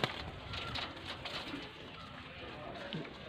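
Soft cooing of regional migratory pigeons in Faisalabad murmurs through steady background noise, low and continuous, with no clear voices on top.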